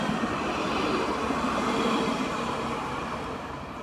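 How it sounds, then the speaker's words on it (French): A tram rolls past close by with a loud, steady rumble and rail noise that fades slightly toward the end. "Un tram sauvage apparaît."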